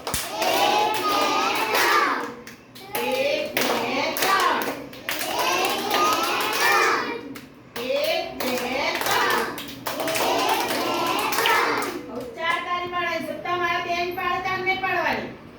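Preschool children clap their hands together during circle time in a classroom, the claps mixed in with steady voices of a teacher and kids talking and chanting throughout.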